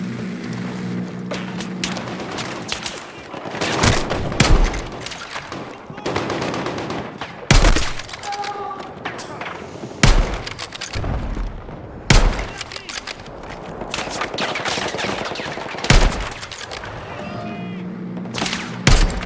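Gunfire in the video game Battlefield 6: loud, irregular bursts of shots and sharp impacts recur throughout over a constant battle din.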